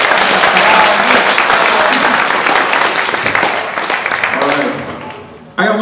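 Open mic audience applauding after a performance, a loud dense wash of clapping and cheering that slowly fades, with voices talking over it.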